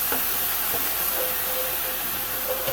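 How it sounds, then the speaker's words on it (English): Balsamic vinaigrette glaze hitting a hot pan of chicken, a steady close hiss and sizzle of steam running evenly throughout with no talking. "here is where I'm going to hit it with a ½ cup of balsamic vinaigrette glaze"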